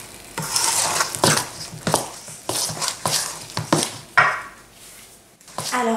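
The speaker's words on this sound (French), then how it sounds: "je continue à mélanger à la cuillère ma préparation" A spoon stirring focaccia dough in a bowl, repeated scraping clinks and soft dull strokes at an irregular steady rhythm, close and clear with no talking.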